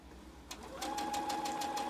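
A sewing machine stitches fabric for machine applique, starting with a faint click, then running in a quick, even burst of needle strokes with a steady motor whine, close and quiet.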